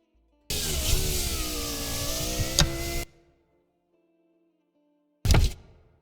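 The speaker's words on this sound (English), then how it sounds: "And now power window. It's the raw recording." A car power window motor whirs for about two and a half seconds with a clunk near the end, then after a silence a short second burst of motor and thunk follows, recorded raw and close.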